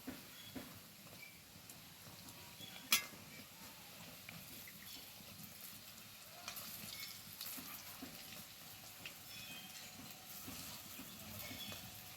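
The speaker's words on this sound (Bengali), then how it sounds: "দেখো পকোড়াগুলো কিন্তু ভাজা হয়ে গেছে" Lentil (masoor dal) pakoras frying in hot oil, a soft, steady sizzle and bubbling at low level with a few light clinks from stirring or turning.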